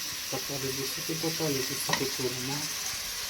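Tomatoes sauté in a pan with a steady close hiss of sizzling, while a voice talks over it.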